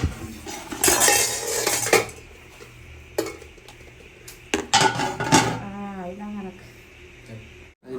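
A big metal lid clanks and rattles onto a cooking pot, with sharp clatters of metal on metal amid kitchen noise and a faint voice. The fish being cooked was netted from a pond by a Tamil family.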